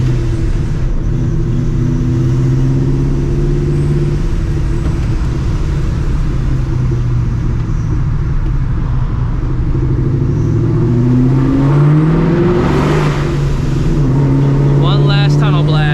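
Procharged 2V Mustang GT with new exhaust cutouts, a deep, loud, steady engine drone that rises and falls as it revs, with a voice talking over it near the end.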